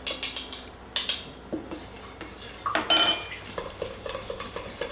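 Arrowroot powder being stirred into a homemade lotion mixture in a bowl, with a series of close, uneven scraping and clinking utensil strokes, some sharper knocks standing out, and no talking.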